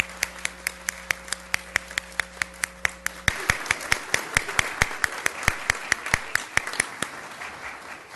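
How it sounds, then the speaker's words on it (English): Round of applause at a school board meeting for an elementary school second grader, a small group clapping in a fairly regular rhythm of sharp, distinct claps that continues steadily and close by. "Give her a round of applause."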